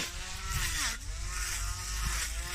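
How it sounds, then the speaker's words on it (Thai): A light grass trimmer runs steadily at close range while cutting grass in a home garden, holding a buzzing engine whine that dips briefly in pitch under load before recovering. "เราตัดเราใช้เครื่องตัดหญ้านี่แหละค่ะช่วยเรา"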